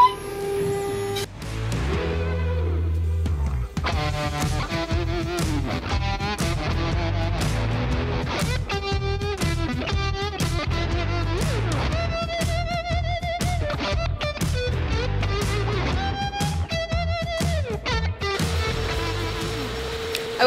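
Tormach CNC machine runs with a busy, continuous mechanical whine, its stepping tones rising and falling in a repeating pattern over steady motor noise, close and loud throughout.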